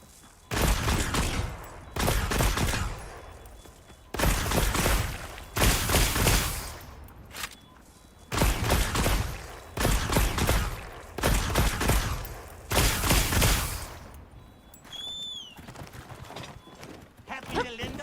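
Gunfire from a gun in Monster Hunter Wilds, loud repeated bursts of rapid shots in several separate volleys with short pauses between, close, with a voice talking at times.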